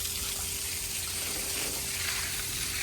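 Water poured and splashed across a kitchen floor during washing, a continuous, fairly close gushing hiss that holds steady for a few seconds with no talk.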